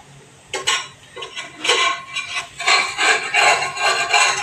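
A utensil scrapes and taps against a pan over a low gas flame as a healthy homemade breakfast is stir-fried, with continuous close clinks and scraping strokes.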